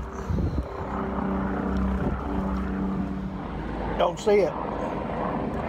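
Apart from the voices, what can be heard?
helicopter flying overhead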